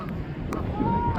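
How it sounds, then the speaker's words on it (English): A goose-like bird honks during a nature walk, a few short nasal calls close by over a low outdoor rumble. "Let me know what type of bird is that. Listen to the sounds."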